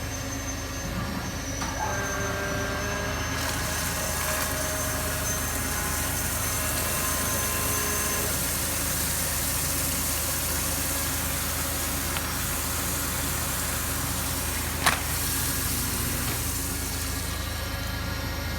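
A CNC machine mills a titanium part for a Ti-CapClip 2 fixture, running at optimal speeds and feeds: a steady, dense machining drone with tonal whine, continuous and fairly loud throughout, with a brief sharp tick near the end.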